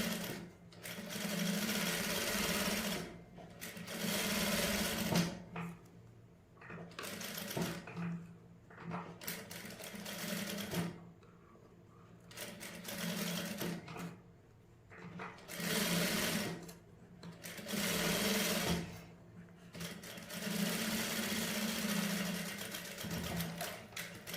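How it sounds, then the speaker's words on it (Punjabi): Sewing machine stitching folded cloth along a neckline, running in several loud, close bursts of rapid whirring separated by short pauses, with no talk over it. "ਕੱਪੜਾ ਤੇ ਮੋੜ ਕੇ ਸਲਾਈ ਲਗਾ ਲੈਣੀ"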